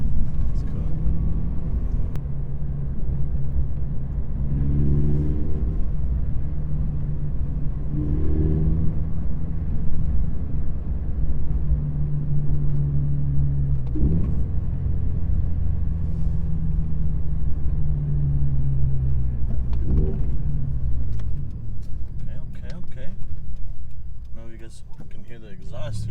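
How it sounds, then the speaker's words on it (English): A car's exhaust drones steadily while driving, a low continuous rumble with a few rising revs between gear shifts and occasional talk over it. "I can hear the exhaust here"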